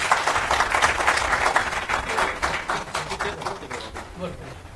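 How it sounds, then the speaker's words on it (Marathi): An audience at a Christian gathering welcomes a speaker with a dense burst of clapping that fills the room steadily, then gradually thins and softens toward the end. "जोरदार टाळ्या वाजून आपण त्यांचं स्वागत करू."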